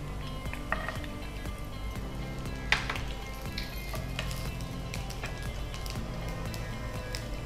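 Cumin and garlic sizzle steadily in a hot pan, a continuous close hiss with scattered pops and a couple of sharper crackles, no talking.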